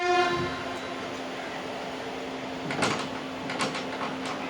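The 56707 Kanyakumari–Tirunelveli passenger train pulls out of Kanyakumari station on Indian Railways, a brief horn tone at first, then a steady rumble with a few clanks and thumps of the coaches.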